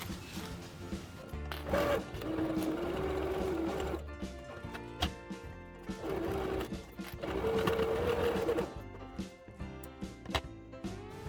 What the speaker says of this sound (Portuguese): E agora eu vou passar uma costura reta aqui, com a distância de um pé de máquina